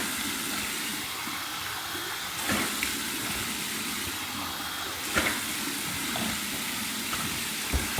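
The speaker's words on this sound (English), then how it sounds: "Okay, 3 splashes seems to take care of it." Warm rinse water splashes onto a face after a shave with a Gillette Trac II razor: three distinct splashes spaced a few seconds apart, close and fairly loud over a running tap.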